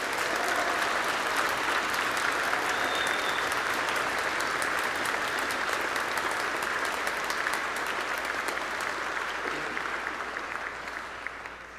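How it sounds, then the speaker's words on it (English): Sustained audience applause for student orchestra musicians and their teachers at a youth symphony and chorale concert, dense and loud throughout, tapering slightly near the end. "Can we give these students and their teachers a big round of applause?"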